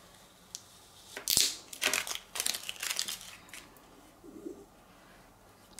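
Transfer tape is peeled and rolled back off vinyl on an avocado-shaped acrylic keychain, making a few crinkly, crackling bursts close up, heard alone with no talk and quiet gaps between them.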